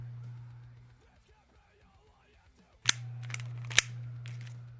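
A Tokyo Marui airsoft gun fires with a real Marui magazine, a few sharp snapping shots, two standing out loudest, over a steady low background hum, close to the listener.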